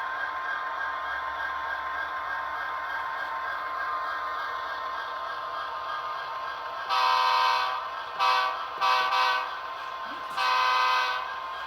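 Athearn Genesis HO scale SD70MAC model locomotive with a Tsunami 2 sound decoder, its horn sounding in several short and longer blasts over a steady engine drone, close and fairly loud.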